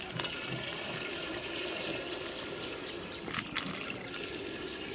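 Full cream milk poured into a cooking pot on a lit stove, a steady continuous liquid rush that stays even and close for the whole stretch.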